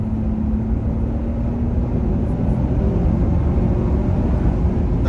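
A 2022 Toyota Tundra pickup accelerates hard in normal drive mode, its engine a dense, steady low rumble heard from inside the cab, rising slightly in intensity over several seconds with no talking.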